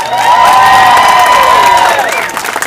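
A comedy-contest audience in Hollywood bursts into a loud, sustained cheer with high whoops and shouting, peaking early and then tapering off over a couple of seconds.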